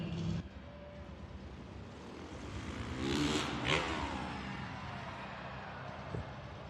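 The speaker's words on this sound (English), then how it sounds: "he's throwing down his best trick on his Honda CRF" A Honda CRF 450 dirt bike revs during a freestyle trick at an arena Monster Jam event in Cleveland: a whining engine note swells, peaks, then fades over a steady crowd-filled arena rumble.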